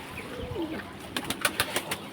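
Soft, low cooing of Lakka pigeons drinking water murmurs in the background, followed by a quick series of sharp tapping clicks.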